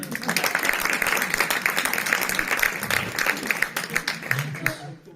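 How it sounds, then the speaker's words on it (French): An audience applauds hip-hop performers at a show, with dense clapping under a talking host and a few louder cheers, fading out at the end. "Ouh, on peut les applaudir."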